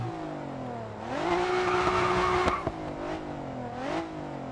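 Nissan GT-R R35 driving in the racing game Racing Master, a steady engine drone rising and falling in pitch as it revs, close and continuous.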